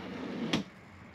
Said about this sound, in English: As you see, the fully extendable drawers.